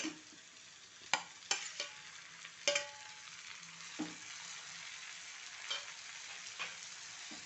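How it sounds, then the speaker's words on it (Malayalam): Onions and tomatoes frying in a pan are stirred with a utensil, giving soft sizzling under a series of scattered scraping knocks, close and fairly quiet. "നന്നായി ഇളക്കി കൊടുക്കാം."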